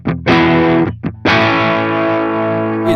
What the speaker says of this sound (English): It's got that thicker humbucker-like sound.